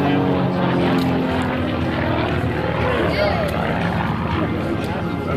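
A 2001 NAS Lemoore airshow, where an F-260 light propeller airplane with a 260-horsepower engine drones steadily overhead at moderate distance, while a commentator talks continuously over the engine noise.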